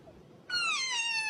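A short-faced cat gives one clear, drawn-out meow up close after a brief quiet moment.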